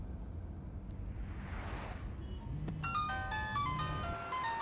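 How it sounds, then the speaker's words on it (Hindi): A mobile phone ringtone chimes in a Telugu action film dubbed in Urdu, a melodic tone pattern that rises after a whoosh, heard over ambient background sound. "देखो उसका फोन बज रहा है।"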